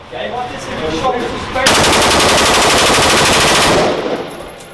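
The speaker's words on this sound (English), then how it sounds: "That's the M4 on full auto." An M4 assault rifle fires one loud, sustained full-auto burst of rapid, evenly spaced shots lasting about two seconds. It follows a softer stretch of ambient noise and is close and dominant.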